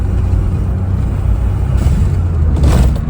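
A Suzuki Alto Works car cruises in fourth gear with a loud, steady low engine drone and road rumble from inside the cabin, rising slightly near the end.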